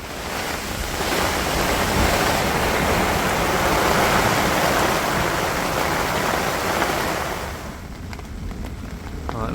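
Heavy rain pours down at a lakeside carp fishing spot in a steady, dense roar of broadband noise, close and loud, easing slightly near the end.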